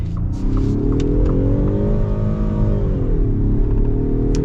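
A 2021 Ford F-150 PowerBoost hybrid pickup accelerates hard in manual shift mode, its engine note climbing steadily and loud, with a brief dip and rise near the end as it shifts gear.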